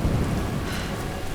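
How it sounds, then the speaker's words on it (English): Steady rain with a low thunder rumble fills the Tomb Raider game scene, a constant close wash of downpour with no voices. "Now that the rain's there, you can see it's kind of washing some of the dirt and mud off."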